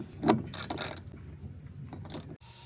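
A ratchet wrench tightens a 10mm nut onto a threaded stud on a trunk drawer bracket, giving a few short bursts of clicking mechanism sounds close by with brief pauses between them.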